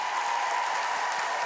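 A TV studio audience at a music quiz show claps steadily and densely for a singer, a continuous even wash of applause with no talking over it.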